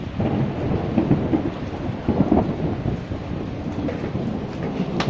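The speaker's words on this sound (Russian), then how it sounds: "сейчас будет гром специально для тебя" Rumbling thunder rolls through steady heavy rain during a downpour, continuous and fairly loud, with low booming swells rising over the hiss of rainfall and no voices.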